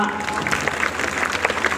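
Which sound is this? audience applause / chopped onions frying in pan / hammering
audience applause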